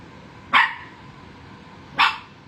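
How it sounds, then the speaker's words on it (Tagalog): A pet dog named Ginger gives two sharp, separate barks about a second and a half apart, close and loud over a quiet room. "Tumatahol na ang bebe kong Ginger."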